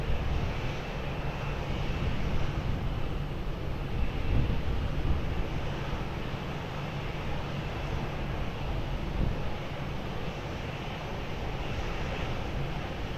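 An airplane at Lisbon Airport produces a continuous, loud broadband engine roar that holds steady throughout, with wind buffeting the microphone and no talk.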